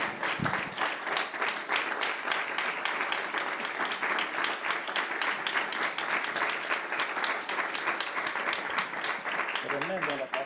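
A church congregation claps together in sustained, even applause for about ten seconds at a moderate distance, with dense overlapping claps that continue without a break.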